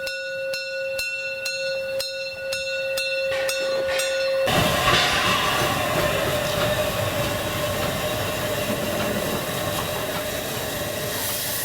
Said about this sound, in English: The locomotive bell sounds continuously